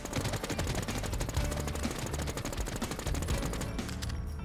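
Rapid automatic gunfire in WarZ aimed at a boss, a steady, loud stream of closely spaced shots rattling for several seconds with no talk.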